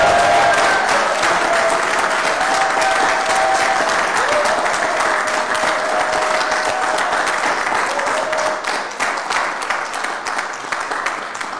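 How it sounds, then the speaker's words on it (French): A large audience at a talk gives loud, sustained applause that fills the whole stretch without letup, easing only slightly near the end, with faint voices mixed in. "j'aimerais vraiment qu'on envoie un tonnerre d'applaudissements"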